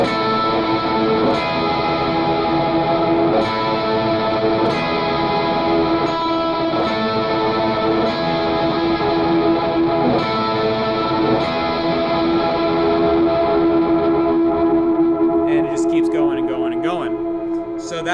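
Sustained electric guitar notes swell and ring out with heavy delay and reverb, tones blurring into a wash that fills the space.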